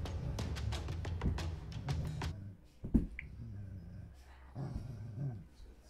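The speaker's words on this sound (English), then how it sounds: "Is that a dog?" A dog heard in a home during a game night, with low, rough vocal sounds and a few short yips over quiet room noise, close by and moderately loud.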